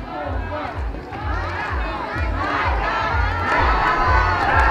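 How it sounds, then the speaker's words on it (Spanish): A crowd at a quinceañera celebration chants and cheers for the birthday girl, loud and sustained, with rhythmic chanting voices over a steady thumping low beat from party music. "Vamos a dedicarle una porra, señores, antes que nada, a la señorita quinceañera"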